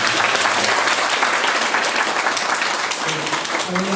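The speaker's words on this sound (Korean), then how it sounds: "함께 박수 한번" Applause from a film screening audience at a Q&A with the director and cast, steady dense clapping filling the room throughout, with some voices mixed in near the end.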